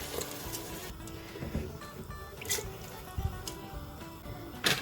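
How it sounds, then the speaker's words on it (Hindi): Water is poured into a pot of cooking urad dal with green chilli, ginger and garam masala, a faint, intermittent splashing and trickling at close range with occasional clinks. "अब मैं इसमें पानी ऐड करूँगी।"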